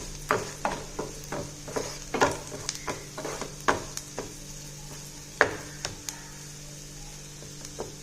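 Onions and spices with asafoetida sautéing in a pan, heard as a low, steady sizzle broken by a run of sharp spatula scrapes and taps at irregular intervals, fairly close and quiet, with no talking.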